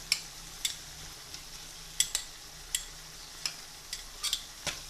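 Spices cooking together in a pan while preparing a Ramadan iftar dish, heard as a quiet steady sizzle under sharp intermittent clicks and scrapes of stirring, about a dozen light taps spread unevenly across the clip, no voices.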